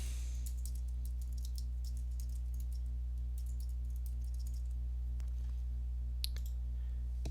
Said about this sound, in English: So the first thing we'll do is type in Barnaby's name.